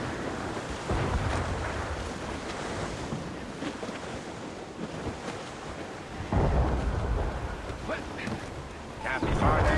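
Sailing through a storm at sea in Assassin's Creed Rogue, wind and crashing waves roar steadily while thunder rumbles, with louder surges of surf and storm noise breaking in partway through and again at the end.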